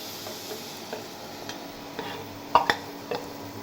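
Greens and boiled mung dal stirred in a pan for a Bengali dish, with a steady soft sizzle underneath and a few sharp spoon scrapes and taps against the metal near the end.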